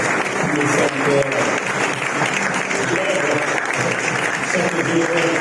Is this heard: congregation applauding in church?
yes